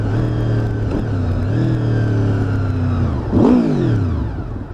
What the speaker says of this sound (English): God, that engine sounds so good.